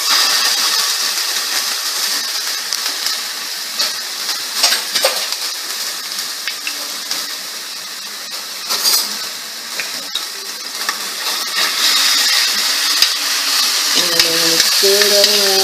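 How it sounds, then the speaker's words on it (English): Ground turkey sizzles steadily in a frying pan, a dense broadband crackle running throughout with occasional clinks and scrapes from stirring. "So I'm putting the ground turkey into the pan."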